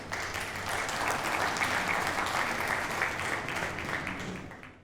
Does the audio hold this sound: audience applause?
yes